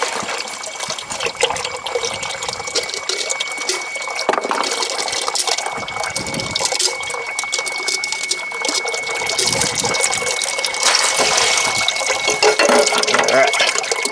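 Hydraulic oil pouring and draining out of a Kubota B2601 compact tractor during its first 50-hour service: a steady liquid gush and splatter that runs continuously and close by, with no talk.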